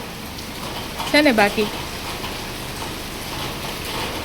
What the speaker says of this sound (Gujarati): જો વરસાદ ચાલુ જ છે જેવો તેવો આવ્યા જ રાખે ઘડીક ફાસ્ટ ઘડીક ધીમો